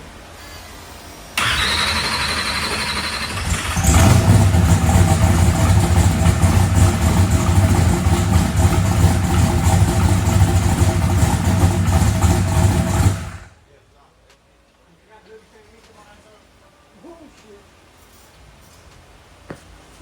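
A boosted big block engine cranks, fires and runs loud and steady for about twelve seconds with its rear wheels raised, then cuts off abruptly, leaving quiet rustling and faint background sounds.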